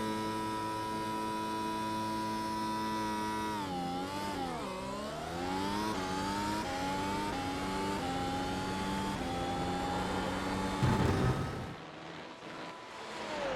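Mercedes-AMG F1 W12 E Performance race car in a video game race start: the engine holds a high whining rev, then climbs in pitch as it launches and shifts, before cutting off near the end.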